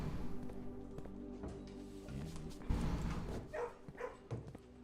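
Dogs barking in a kennel in the video game Blue Prince, several loud woofs and yips in an irregular burst, with some clopping sounds mixed in.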